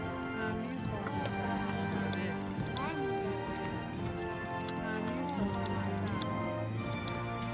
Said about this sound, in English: What's the deal with these horses?